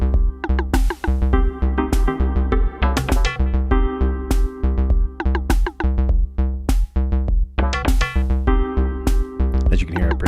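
A quirky FM synth groove from an Elektron Model:Cycles groovebox loops in tight, steady rhythm, with punchy bright hits and low bass notes, played loud and clean with no voices.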